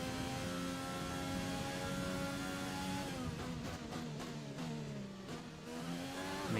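A Formula 1 car in the F1 2020 video game screams at high revs, then drops through rapid downshifts under hard braking, with tire squeal as the engine note falls, loud and continuous.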